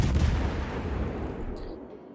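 Heavy naval gunfire from the Zao, a warship in World of Warships, firing high-explosive shells as a loud low rumbling boom that rolls on and fades over about two seconds, with no talk.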